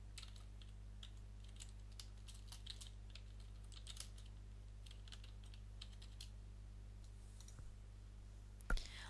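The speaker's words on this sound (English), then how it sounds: "We're now going to type our description." Fingers type a description on a computer keyboard in quick, irregular bursts of soft clicks, faint and close over a steady low hum, ending with one sharper tap.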